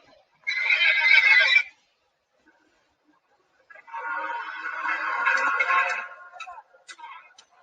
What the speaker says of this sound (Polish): Dokładnie to był osioł.